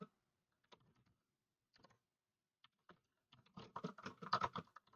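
Typing on a computer keyboard during an online card game: scattered single key taps at first, then a quicker burst of clicking keystrokes near the end, close and fairly quiet with no talk.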